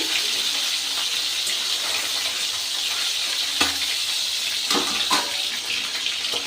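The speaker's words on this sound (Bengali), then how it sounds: "মাছের এক ফিট আমার ভাজা হয়ে গেছে আমি আর এক ফিট উল্টে দিচ্ছি" Live snakehead fish pieces fry in a pan, filling the space with a loud, dense hiss of spitting oil, with a couple of brief clacks as pieces are turned; no one speaks.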